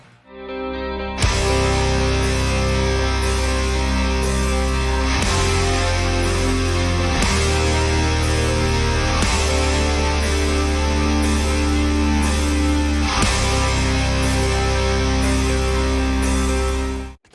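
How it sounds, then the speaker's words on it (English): Four distorted rhythm guitar tracks panned very wide, the outer pair hard and the inner pair slightly in, chugging loud and dense for the whole stretch, with brief breaks and re-entries every few seconds and no voices. "we have 4 rhythm tracks, all of them panned very wide"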